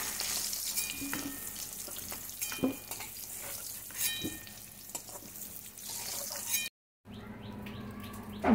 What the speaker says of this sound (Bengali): দিয়ে দেবো নুন, ভালো করে ভেজে নেব।